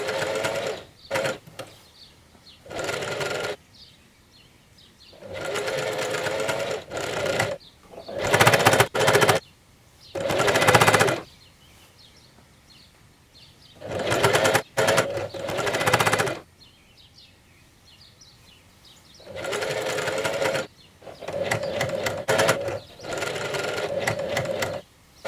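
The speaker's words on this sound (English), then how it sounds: "Sew them together, leaving a 2 cm seam allowance." Sewing machine running in repeated bursts of stitching on a seam of homemade climbing pants, each run lasting a second or two with quiet pauses between, close and fairly loud.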